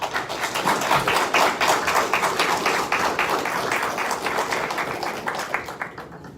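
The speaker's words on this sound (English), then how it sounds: "another round of applause" Sustained crowd applause at a commission meeting, a dense steady wash of many hands clapping that fades slightly near the end.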